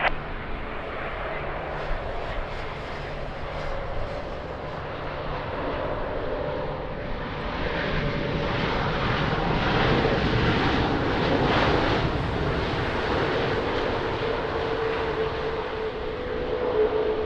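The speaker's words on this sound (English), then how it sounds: "Of course, a very nice landing." A fixed-wing airplane lands on runway 20 at Lisbon Airport, its engine roar a steady broadband rumble that swells slightly mid-approach and holds loud and continuous throughout, with no voices.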